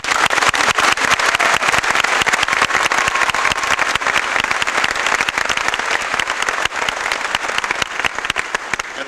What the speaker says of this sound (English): A round of applause for our platform.